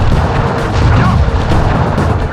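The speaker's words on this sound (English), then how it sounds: "Still, to honor your Cooper ancestry, I will send you to your doom with the beauty of my new firework technique, Flame Foo." Loud, rapid bursts of booming firework blasts from a fire-technique attack in the Sly Cooper and the Thievius Raccoonus video game, crackling and popping in quick succession close up.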